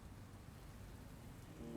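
Faint, steady rain falling in the News Tower management game, a soft continuous patter with a low rumble underneath and no voices.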